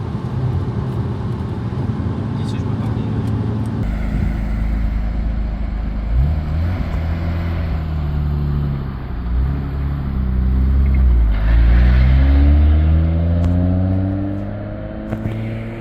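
A Nissan Skyline R34 GTR driving on a road in Sweden, a deep engine rumble heard from inside that climbs and falls through gear changes, with a louder surge of acceleration near the end and no talk.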